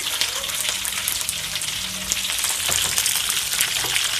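Peanuts roasting in a pan while being stirred, a steady close sizzle and crackle broken by light scraping and clicking of the spatula.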